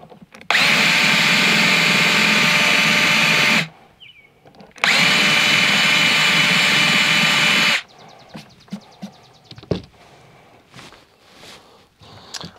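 A power drill bores a hole for a DIY disc golf cart build in two loud, sustained whirring bursts of about three seconds each, followed by quieter clatter and handling noises.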